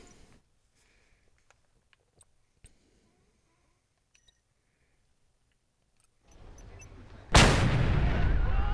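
Grenade launcher explosion in a shooter video game: mostly quiet clicks and faint distant pops, then near the end a loud sudden blast followed by a sustained roaring rumble.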